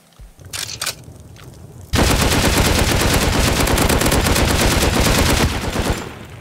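Gunfire in the video game Rust on a zombie server: a few scattered shots, then a loud sustained burst of rapid automatic fire that runs for over four seconds before tapering off.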